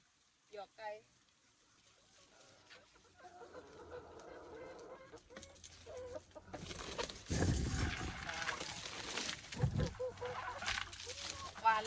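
Hens being fed a supplement in a backyard laying flock cluck in short bursts up close, growing busier and louder amid a steady commotion, while someone talks over them.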